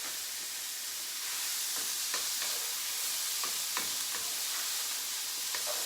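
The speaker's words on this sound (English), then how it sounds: "add our bacon lardons straight in" Bacon lardons sizzle and fry in a pan as a steady hiss, with occasional stirring scrapes and crackles, close and continuous with no talking.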